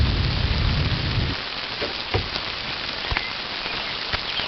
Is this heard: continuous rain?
yes